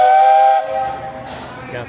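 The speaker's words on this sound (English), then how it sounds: "the train all fired up" A steam train whistle at Magic Kingdom blows one loud, sustained, close blast that cuts off after about half a second, leaving a hiss of escaping steam and faint background noise.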